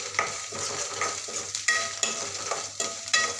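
Finely chopped tomato sizzles in a spiced masala in a pan for a village-style colocasia-leaf curry, a steady fry broken by regular scraping stir strokes, close and moderately quiet with no talk.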